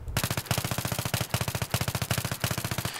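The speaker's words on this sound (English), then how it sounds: "Listen to me shoot now." Rapid automatic P90 gunfire in Battlefield 3, fired in several tight bursts of many rounds, each shot sharp and punchy, with only brief gaps between bursts and no voices.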